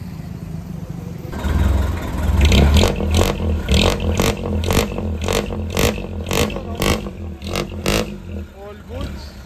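A jeepney engine revs hard through its muffler, a loud rumbling roar rising and falling in repeated bursts close to the mic, with people talking over it.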